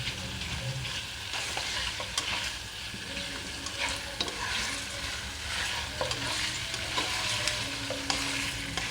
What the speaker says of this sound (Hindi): इसको हमने इसमें इस ऑयल में अच्छे तरीके से फ्राई करना है।